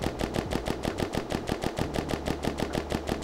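A rapid-firing gun from the Western Front Weapons mod fires a steady automatic burst of about twenty evenly spaced, punchy shots, loud and continuous with no pauses.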